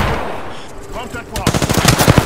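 Rapid automatic gunfire in the battle royale game Apex Legends rattles out in a dense burst of sharp shots, loud and close, building in the final second after a quieter stretch.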